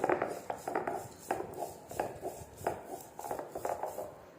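Soaked ingredients being ground on a stone ammi, a steady run of scraping, knocking strokes of stone against stone, close and fairly quiet, repeating in an uneven rhythm without talk.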